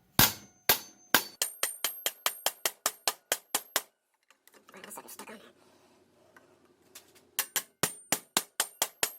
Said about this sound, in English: take a couple of whacks with a small little hammer or something and just hit the end of the valve spring tool